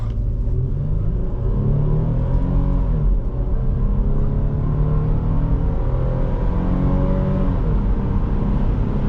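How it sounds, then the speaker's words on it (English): A 2005 Toyota Highlander V6 4WD accelerates hard in a 0 to 60 run, its engine droning loudly from inside the cabin with rising pitch as it pulls through gears, a constant road rumble underneath. "let's turn around, do our first 0 to 60 test, and continue with our drive"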